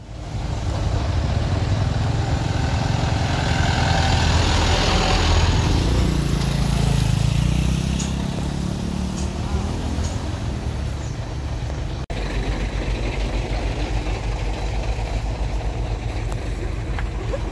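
A trailer truck's engine labours on an uphill road in a traffic jam, a loud low rumble that swells for several seconds and then settles into a steady, slightly quieter drone, with no voices heard.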